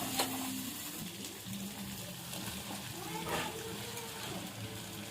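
Soya chunks dropped into a pan of fried spice masala in hot oil, a steady close sizzle and crackle with brief louder bursts as they hit the oil, with faint voice in the background.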